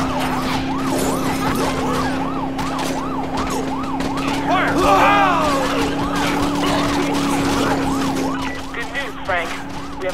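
A wailing police car siren sounds in the Dead Rising 4 video game, sweeping up and down in a steady cycle alongside a droning engine, with a brief burst of other game noise partway through.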